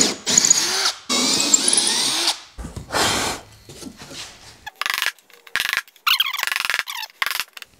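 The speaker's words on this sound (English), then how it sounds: "So let's drill those holes out and we'll see how it works." A power drill bores dowel holes in wood in several loud close bursts, each whining spin separated by short pauses, with small clicks and scrapes of the workpiece between.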